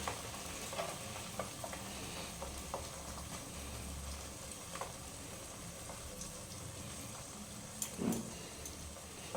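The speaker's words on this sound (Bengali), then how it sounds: "এরপর আমি ডিমটা ভেজে নেব অমলেটের মতো" An egg frying in oil like an omelette, a soft, steady sizzle with occasional light stirring scrapes and a small clatter near the end, quiet and close.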